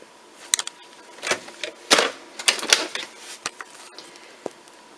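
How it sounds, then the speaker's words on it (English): FoodSaver vacuum sealer working on a bag of blanched beans, giving a series of sharp mechanical clicks and short whirring bursts spaced irregularly, fairly close and clear with no voices. "Now it's time to put the bag in your food saver machine."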